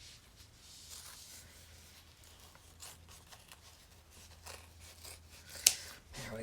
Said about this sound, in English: we're just going to trim the fabric underneath